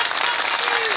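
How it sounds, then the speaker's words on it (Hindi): Crowd applause at a swearing-in ceremony for newly elected nagar panchayat members in Jahangirpur, steady dense clapping throughout the short moment, with a faint voice over it. "तालियां भाई बजाइए।"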